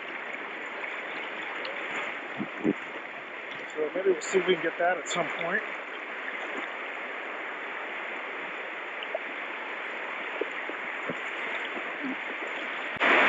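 Steady rushing of river rapids heard while tubing down a rocky river at Samuel de Champlain Provincial Park, a broad continuous wash that holds even throughout, with someone talking briefly over it in the middle.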